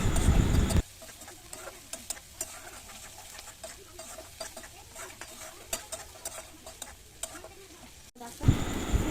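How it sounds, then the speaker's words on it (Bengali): Mashed pointed gourd with salt and turmeric being stirred in a pan while the water cooks off, a steady low sizzle with light scraping taps throughout, close and fairly quiet, louder handling noise at both ends. "যতক্ষণ না জলটা শুকাচ্ছে ততক্ষণ এইভাবেই নাড়াচাড়া করতে হবে।"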